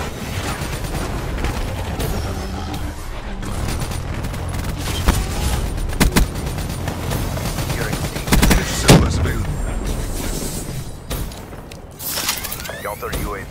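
Black Ops 3 multiplayer combat with rapid gunfire bursts, sharp cracks and occasional explosions throughout, loud and busy, while in-game announcer voices talk over the fighting.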